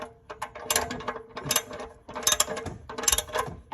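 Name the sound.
twisting oil filter by hand on Honda Accord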